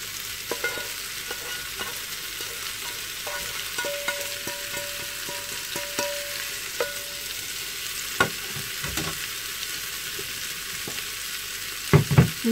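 Chopped turkey frying in a pan with a steady sizzle, broken by occasional stirring clatter and a louder scrape or knock near the end, with no talking.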